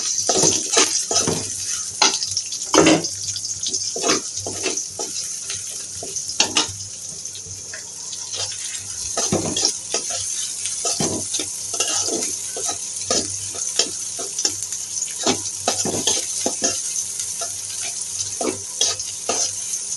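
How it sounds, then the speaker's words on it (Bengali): Chillies and onions fry in hot oil for a home lunch dish, a steady bright sizzle running throughout with repeated scraping and stirring strokes of a utensil against the pan, close and fairly loud, with no talking. "তার মধ্যে দিয়ে দেবো মরিচ পেঁয়াজ একটু ভেজে নেবো"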